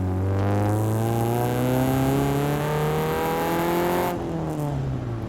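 A Chevrolet Spark engine is floored, its loud, close drone climbing steadily in pitch for several seconds before the throttle lifts and the note drops away with a brief rumble.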